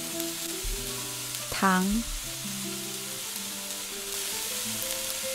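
Lamb with garlic sprouts stir-fries in a wok with a soft, steady sizzle, a brief tonal clang near the middle and a single short spoken word over the frying.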